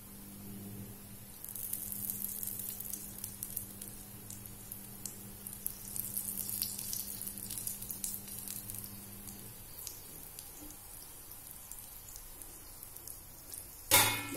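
Thalipeeth fries in oil in a pan with a soft, steady sizzle and crackle, fairly quiet throughout and ending in a sharp clatter.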